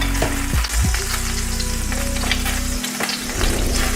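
Olive oil and butter sizzle steadily in a frying pan at low-reduced heat, a loud continuous crackle with a few brief clinks and stirring bumps, no voices.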